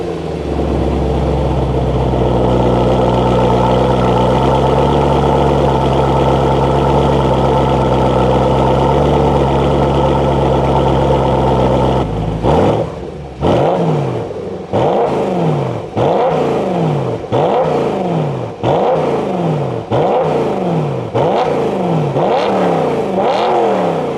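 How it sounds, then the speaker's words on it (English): BMW M3 E92 with V8 engine and Borla ATAC exhaust, first idling steadily and loud up close, then revved repeatedly in sharp, rising bursts that fall back between blips. "Borla ATAC is known to make V8 sound amazing"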